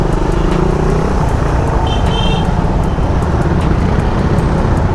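Night road traffic from the saddle of a moving Raider 150 motorcycle between Bacoor and Dasmariñas, Cavite: a constant dense rumble of engines and tyres with brief horn-like tones, loud and close, no talk.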